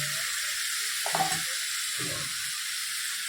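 Green chillies and fennel seeds sizzling in hot oil, a steady close hiss of frying with a couple of soft clinks and rustles as they are stirred.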